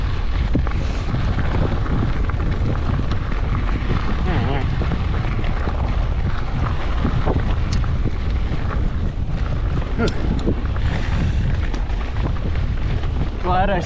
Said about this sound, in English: the wind is picking up a little bit and it's already gotten noticeably colder